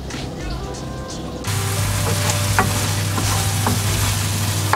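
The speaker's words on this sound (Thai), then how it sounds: "เอามาผัดกับเนยไว้ก่อนนะคะ" Overripe bananas stir-fried with butter in a pan: a loud, steady sizzle starts after a quiet moment and keeps going, with occasional light scrapes of stirring, and a voice faintly in the background.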